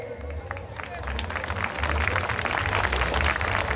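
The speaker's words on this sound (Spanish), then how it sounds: "un aplauso pues muy fuerte para esta alumna" Applause for a young salsa dancer at a town patronal festival in Las Varas, Nayarit, a crowd clapping steadily and building louder over a low amplified hum, continuous and fairly close.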